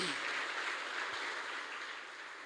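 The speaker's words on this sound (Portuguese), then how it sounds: "Você pode dar um aplauso bem forte ao Messias." A church congregation applauding, a dense, steady wash of clapping that fills the space and slowly fades over a couple of seconds, with no voices standing out.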